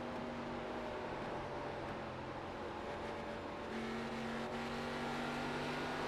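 Race cars in an online racing video game at the Phoenix oval, heard from a loud rear in-car camera, give a steady, sustained engine drone at high speed that holds throughout, with no talk over it.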